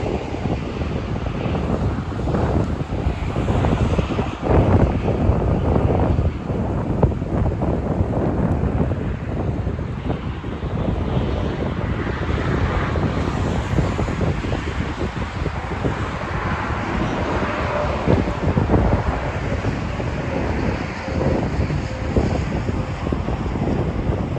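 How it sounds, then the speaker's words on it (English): Constant heavy wind buffeting a microphone at the Monon High Bridge in Delphi, Indiana, rough low rumble and gusty thumps throughout, with no voices. "I apologize, it is windy."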